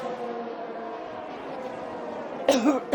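A muffled cough from a race commentator breaks out near the end, after a few seconds of low droning during an F1 2021 game race at France, and is followed by a second short burst.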